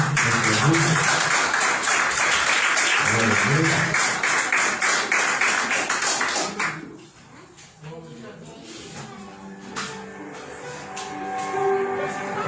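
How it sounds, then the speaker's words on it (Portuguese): A church congregation at a Pentecostal service claps together, first in quick rhythmic unison with voices mixed in, then the clapping stops and a quieter stretch of talk and music follows. "Um aplauso ao Senhor que Ele merece."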